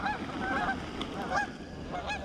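Several geese honk at a pond, repeated nasal calls over a steady outdoor background, some honks close together and others more distant.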